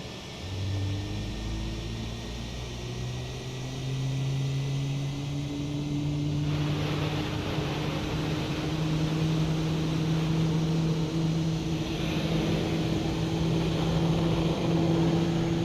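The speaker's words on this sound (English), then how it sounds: "Takeoff in our background there, ladies and gentlemen, or a landing rather." An airliner landing in the background during an A320 session in Microsoft Flight Simulator, heard as a low, steady jet roar with a slowly shifting engine tone beneath constant cabin hum, distant and continuous, with no talk.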